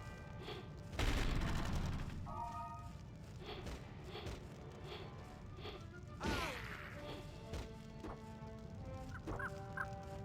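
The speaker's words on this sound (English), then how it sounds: "Mounted artillery." Mounted artillery firing in Sonic Unleashed: a loud, rough blast erupts early, followed later by a second sharper burst, over steady tonal game music and chiming effects.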